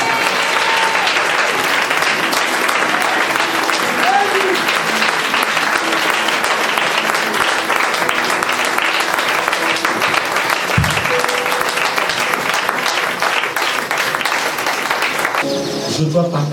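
A church congregation applauds loudly and continuously for a long stretch, dense clapping filling the hall with scattered cheers mixed in.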